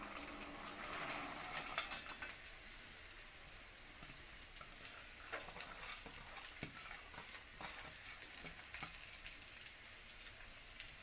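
Green beans added to softened onions in a pan for Tamil-style beans poriyal, frying with a steady soft sizzle as they are stirred, with occasional scrapes and clinks throughout and no talking.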